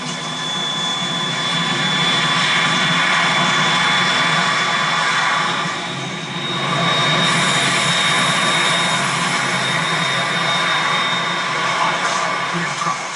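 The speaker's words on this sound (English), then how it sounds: "We're in trouble. It's the Harrier." A Harrier jet roars in Metal Gear Solid 2. The engine noise is a loud, continuous, broad roar with gentle swells across the whole stretch.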